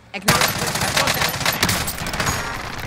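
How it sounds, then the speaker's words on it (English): Call of Duty Warzone gunfire, a sudden loud burst of rapid automatic shots that continues as dense, close, sustained firing. "Taking hostile fire. Under fire."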